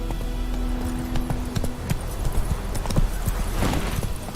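Hooves of the horse Roach clatter in a rapid, rhythmic gallop in The Witcher 3, close and steady throughout, with a faint snort or whinny near the end.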